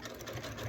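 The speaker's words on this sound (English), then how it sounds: "Push them out of the way so that I can get to the sewing machine and begin sewing at that spot." A sewing machine stitches a coiled rope bowl, its motor giving a steady, close, loud whirring chatter throughout with no talking.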